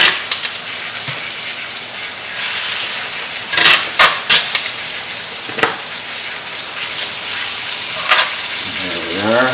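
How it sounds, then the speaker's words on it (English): Pork medallions sear in a hot pan over about three-quarter heat, seasoned with salt, pepper and thyme. A steady, close sizzle runs throughout, broken by several sharp clinks and taps from the pan. "Now I'm going to add our pork"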